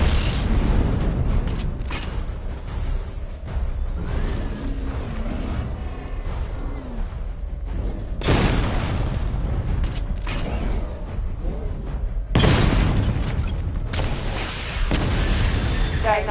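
Missile barrage explosions in Batman: Arkham Knight: a dense run of heavy booms and rumbling bursts, with loud broadband blasts near the start, around eight seconds and again after twelve seconds, over a continuous low mechanical drone.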